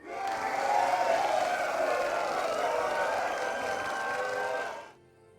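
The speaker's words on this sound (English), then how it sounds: "That sounded like there's a lot more people in the crowd" A large crowd cheers and roars in the fantasy video game Tainted Grail: The Fall of Avalon, a loud, dense, sustained wall of voices that holds steady for about five seconds, then cuts off abruptly.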